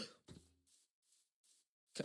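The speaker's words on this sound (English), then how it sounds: "Cough kind of killed my delivery." Several short coughs come in quick succession, close and fairly sharp, with brief silent gaps between them and a stronger cough at the end.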